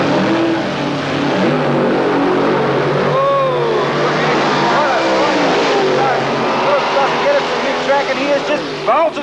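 Keith Black powered drag racing cars of 484 to 584 cubic inches blasting off the line at Willowbank's Winternationals, a loud sustained roar with rising engine whines throughout, commentary audible underneath.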